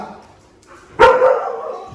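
A dog gives one sharp, loud bark partway through, close by, after a quiet stretch with faint background noise.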